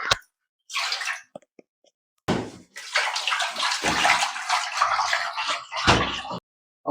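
Water poured for atta paratha dough with salt, splashing in bursts that start and stop, then a longer, steadier pour, close and fairly quiet with no talking.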